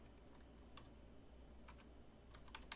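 Keys on a computer keyboard clatter as a password is typed, a few quick scattered clicks in short clusters over a steady low room hum, faint and close, no talking.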